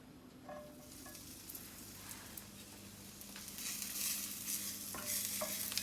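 Cubed meat fat sizzles and crackles steadily in a hot cast iron pan, with occasional stirring scrapes and the frying growing slightly louder toward the end.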